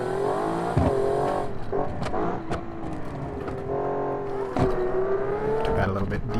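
A car engine in BeamNG.drive revs and shifts through a hard corner, its harmonic drone steady and close with brief spikes, beneath a voice talking over the gameplay.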